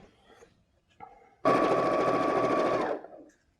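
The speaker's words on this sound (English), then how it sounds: "So I'm just going to sew these together into rows of 3" A sewing machine stitches quilt patches together into rows, one steady, fast-running burst lasting about a second and a half, preceded by a couple of soft handling clicks.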